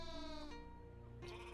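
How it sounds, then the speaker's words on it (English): Sheep bleat in the video game Rain on Your Parade, a couple of close, wavering calls with a brief gap between them, clear and loud enough to stand out in a quiet scene. "All we gotta do is just herd some sheep into the pen."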